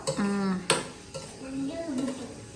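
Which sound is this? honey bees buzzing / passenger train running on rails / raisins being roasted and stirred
raisins being roasted and stirred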